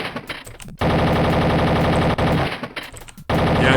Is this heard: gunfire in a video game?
yes